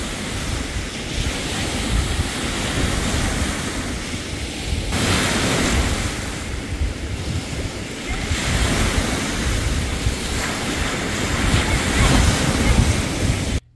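Ocean waves wash steadily onto the beach at Christmas Cove, Michigan, a continuous broadband roar of surf with gusts of wind buffeting the microphone and periodic swells rising and falling, no talking.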